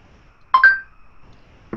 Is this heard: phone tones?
yes